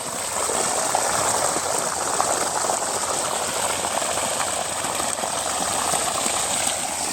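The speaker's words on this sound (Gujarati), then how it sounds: "સાતસો ફૂટ આવ્યા પછી આ રીતનું પાણી નીકળે છે અહીંયા જોઈ લો આ રીતનો બંબો પડે છે" Heavy water gushes from a borewell pipe drilled past 700 feet on a farm with castor crops, a steady loud broadband roar that holds unbroken throughout, with no talking.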